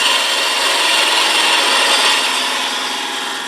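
Wood on a lathe being shaped into a pillar candlestick, giving a steady, loud, continuous hissing scrape of the cutting tool against the spinning wood, with no break and no talking.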